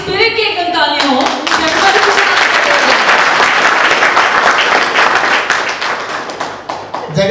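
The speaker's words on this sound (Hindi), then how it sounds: "मैं चाहूंगी हाई स्पिरिट की एक तालियां हो।" Loud, close audience clapping after a speech, dense and sustained for several seconds before easing off, with a voice briefly heard at the start.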